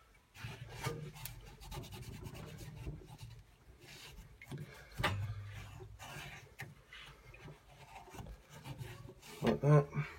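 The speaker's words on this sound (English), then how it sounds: "So I'll just clean it up in there with a cloth and grease it and put the new one in." A cloth wipes the inside of a fitting being cleaned before greasing, making a continuous soft rubbing and rasping at close range, steady and fairly quiet, with a few firmer scrapes near the end.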